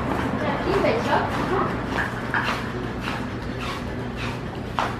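A puppy near a pet shop gives short yips and whimpers in several bursts over a steady low hum, with people talking over it.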